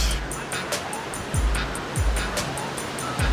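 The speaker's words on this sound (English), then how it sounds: "So we're just at the beach in Oceanside. Pretty cool beach." Ocean waves at the beach in Oceanside wash in as a steady soft surf hiss under light wind, with faint intermittent clicks and thumps nearby.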